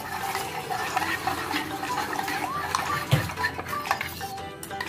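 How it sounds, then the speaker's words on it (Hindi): Water is poured and stirred into tamarind juice for pani puri in a kitchen, giving a close splashing and pouring sound with faint clinks of a utensil against a vessel, with no talking. "अब इसमें ज़रूरत के अनुसार पानी मिक्स कर लेंगे"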